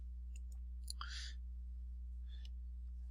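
A few soft computer mouse clicks on a website, brief and close, over a steady low electrical hum.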